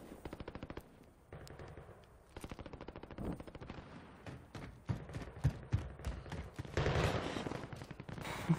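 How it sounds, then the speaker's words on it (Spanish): Rapid gunfire from the video game Warzone, bursts of automatic machine-gun fire and scattered single shots crackling at varying distances, dense stretches alternating with brief gaps. "Hoy veo muchos disparos para acá"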